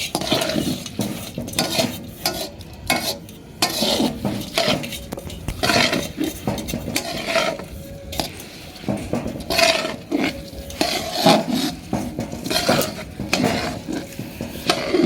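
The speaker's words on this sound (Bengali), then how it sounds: "চালটা দিয়ে দিতে হবে দিয়ে চালটাকেও এর সাথে একইভাবে নাড়িয়ে চাড়িয়ে নিতে হবে" Rice is stirred and fried in a large pot for khichuri at a picnic, with repeated scraping and clattering of a spoon against metal over a low sizzle, close and busy throughout.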